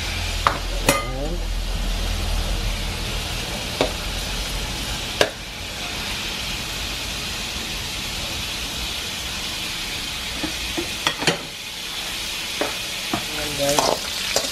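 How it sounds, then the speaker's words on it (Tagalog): Pork belly frying in a small amount of oil in a pan, a steady loud sizzle lasting throughout, with occasional sharp clinks and scrapes of stirring utensils against the pan close by. "Isisimula natin itong ating pork sa mantikang konti."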